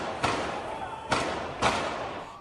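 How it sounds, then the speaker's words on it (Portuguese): Three sharp, loud cracks at uneven intervals, gunshots during a terrorist attack on a train, captured by nearby residents amid background noise. "Moradores registraram o som dos tiros."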